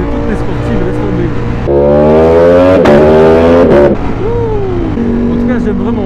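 A Ducati V4S sport motorcycle engine revs loudly and close, its pitch climbing steeply through a hard rising sweep before dropping back to a steady, rumbling idle.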